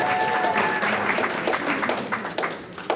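Sustained audience applause at a program completion celebration, a dense, fairly close wash of many hands clapping that thins slightly toward the end, with faint voices underneath.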